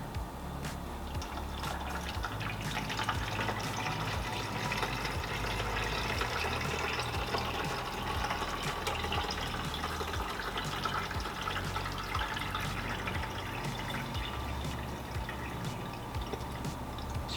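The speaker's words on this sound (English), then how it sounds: "you're going to want to fill it to where it says 64 ounces with the hot water" Hot water pours steadily into a container being filled to the 64-ounce line, a continuous splashing rush that holds at an even level from start to finish with no pauses.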